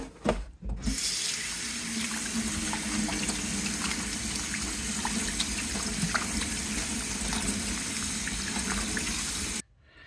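Tap water runs steadily into a kitchen sink while a whole raw octopus is rinsed clean beneath it, a continuous close hiss that starts abruptly and cuts off near the end, with no talking.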